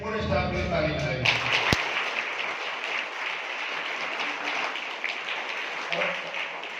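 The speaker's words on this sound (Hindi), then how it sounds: "और एक बार इंग्लिश मीडियम के पूरे स्टाफ के लिए ताली बजाइए।" An audience at a gathering breaks into applause for the English medium school staff, a voice fading out as dense, even clapping takes over and continues steadily to the end.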